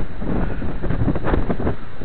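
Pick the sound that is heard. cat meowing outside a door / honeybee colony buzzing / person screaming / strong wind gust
strong wind gust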